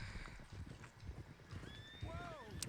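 Horses in Red Dead Redemption 2 act up, with clip-clopping hooves and a sharp whinny rising near the end over a faint background of game sound and low talk.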